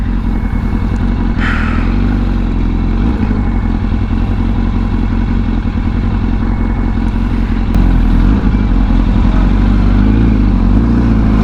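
A big bike motorcycle idles while warming up, its engine a steady, close, low rumble that holds throughout, with a slight lift in level near the end.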